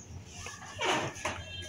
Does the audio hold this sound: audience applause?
no